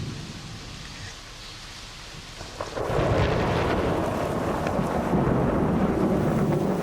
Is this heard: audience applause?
no